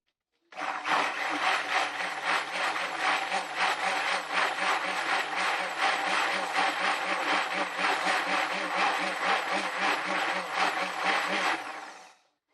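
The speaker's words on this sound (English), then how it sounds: "I need to hit this one with the stick blender." A stick blender whirs steadily for about eleven seconds mixing goat milk cold process soap, a dense buzzing motor drone with a rapid pulsing texture, starting and stopping abruptly.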